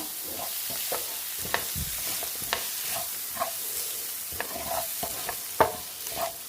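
A single tomato sautés in a pan while pepper chicken is being cooked. It gives a soft, steady sizzle with scattered scraping and clinking as a spoon stirs it close by.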